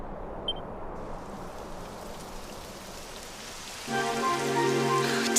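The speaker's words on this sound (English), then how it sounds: "It would have to go and start raining, wouldn't it?" Steady rain in the video game Dragon Quest XI patters down in a soft, continuous wash, joined near the end by a brighter layer of tonal ambience.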